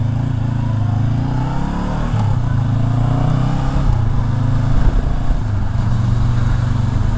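A 2022 Honda CB500X motorcycle being ridden on the road, its engine droning steadily and loudly close by with slight shifts in pitch as it pulls along, with no talk over it.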